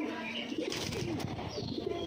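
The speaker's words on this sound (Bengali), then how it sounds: "এইটা ঢাকাইয়া কবুতর" Pigeons cooing in a village setting, soft low coos repeating under a steady background hum, faint and somewhat distant.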